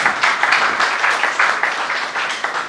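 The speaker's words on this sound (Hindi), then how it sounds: "आप सभी एक बार जोरदार तालियां बजाकर" Seminar audience breaks into loud applause, dense rhythmic clapping from many hands held steady throughout, close and full with no talking over it.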